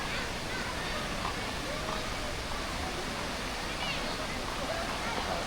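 A river at a rocky campground in Kampar, Perak, rushes in a constant broad wash, with faint distant voices of people bathing beneath the steady flow.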